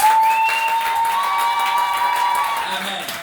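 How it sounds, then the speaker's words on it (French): Church congregation applauding and cheering during a thanksgiving service, a steady wash of clapping throughout with sung or sustained voices layered over it. "Acclamons encore le Seigneur pour vous."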